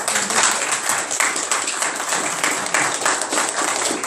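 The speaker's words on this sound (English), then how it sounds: "So let's give her another round of applause." Close, loud applause from an audience in a county commissioners court chamber, many hands clapping at a quick, steady rate with crisp individual claps standing out across the whole stretch.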